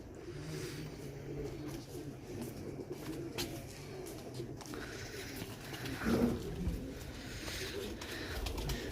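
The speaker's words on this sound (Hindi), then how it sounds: "फिरोजपुरी कबूतर है ये।" Ferozpuri pigeons coo softly in a loft, a low repeated cooing that swells once near the end, over faint background noise with no talk.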